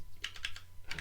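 Keys clack on a computer keyboard in a quick irregular burst of four or five sharp taps, a pause, then two more, close and fairly quiet with no talking over them.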